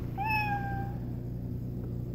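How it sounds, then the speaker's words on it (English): A baby toy's animal sound mode plays an electronic cat meow: a single clear, drawn-out mew near the start, followed by quiet background hum. "Cat."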